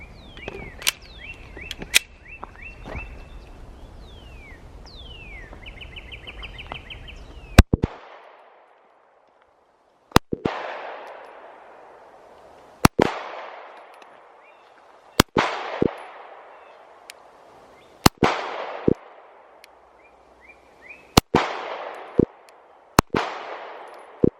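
A Smith & Wesson Equalizer pistol fires at a shooting range, with a handful of sharp, loud single shots spaced a few seconds apart, each followed by a ringing echo, after some faint mechanical handling noises at the start.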